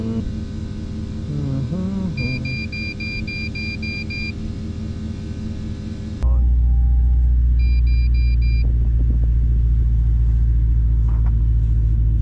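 A car cruising with a GoPro camera mounted on its front bumper gives a steady low engine rumble and road noise, turning into a heavier, louder wind-and-road roar partway through, with no talk.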